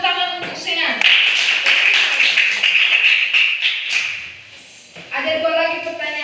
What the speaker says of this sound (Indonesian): Tepuk tangan untuk Senan.